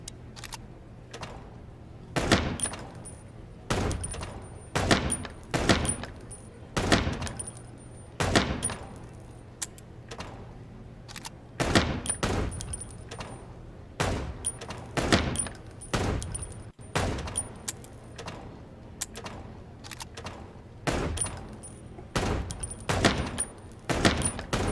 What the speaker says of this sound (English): Fire away, you'll need to reload your gun after 6 shots